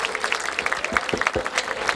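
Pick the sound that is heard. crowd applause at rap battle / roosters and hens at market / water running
crowd applause at rap battle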